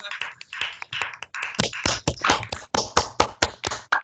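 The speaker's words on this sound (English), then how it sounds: "Can we just give Sean a round of applause, please?" Scattered applause at a retail event, a few hands clapping in distinct, uneven bursts that grow more rhythmic toward the end, close and fairly clear.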